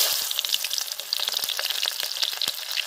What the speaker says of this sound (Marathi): आता तेल पण ओतून घेते लगेच खडा मसाला टाकून घेते केजपत्ता टाकून घेतलाय आता कांदा पण टाकून घेते